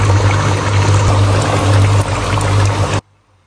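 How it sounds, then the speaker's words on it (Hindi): Water pours steadily into a cooking pot holding browned chicken and potato curry in a home kitchen, a continuous close splashing stream that stops abruptly near the end. "अब इसमें जो है ना मैंने पानी डाल देना है"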